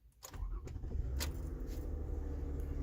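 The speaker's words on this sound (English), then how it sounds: "And what I'm going to do is start up the car." A 2007 Toyota Camry engine cranks and catches after a brief starter whir, then settles into a steady, close idle rumble with no voices.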